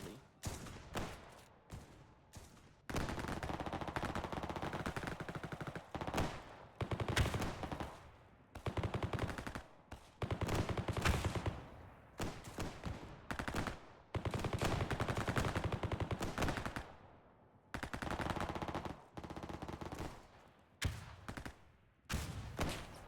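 Bursts of gunfire in the video game Frontline: Karelia, with rapid automatic volleys and single shots in irregular clusters separated by short gaps, loud and close throughout.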